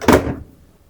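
The door of a Toshiba fully automatic 8 kg washing machine is pushed shut, a single loud close thunk that fades quickly into quiet.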